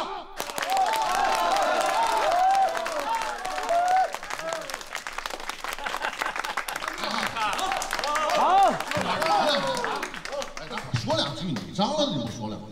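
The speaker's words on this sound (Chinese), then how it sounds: "让大伙儿以热烈的掌声欢迎咱们这新人" Warm applause and clapping from a gathered crowd of neighbours in a shared courtyard compound, welcoming a newlywed couple; steady, fairly loud clapping runs throughout with voices and chatter mixed in.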